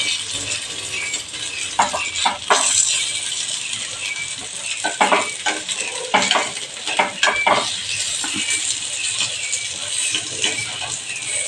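Sabudana appe sizzle softly in a pan while being stirred and turned, with scattered scraping and clinking of a utensil against the pan over a constant frying hiss.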